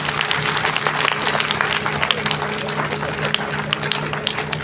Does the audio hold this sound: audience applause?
yes